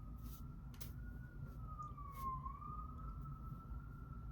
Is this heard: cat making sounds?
no